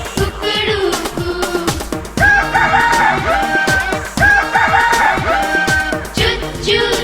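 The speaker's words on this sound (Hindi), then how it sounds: "कुकड़ू कू, मुर्गा बोले कुकड़ू कू" Rooster crowing sounds come in repeated loud calls over a bouncy children's Hindi song accompaniment, with clucking fowl sounds between the crows.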